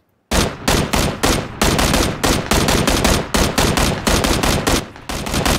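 Sustained bursts of rapid automatic gunfire in the video game PUBG, loud and close, the shots chattering in quick rhythmic strings separated by brief gaps.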